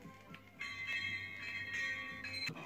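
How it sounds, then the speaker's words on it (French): A mountain bell rings as the page-turn cue on a French storybook recording, bright sustained metallic tones with a few struck onsets, moderately loud and alone. "vous devez tourner la page de votre livre quand vous entendrez la jolie cloche de la montagne sonner ainsi"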